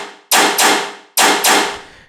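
Layered gun samples in a tearout electronic track fire as two pairs of loud, sharp percussive blasts, each pair a quick double hit with a long decaying tail, and no voices.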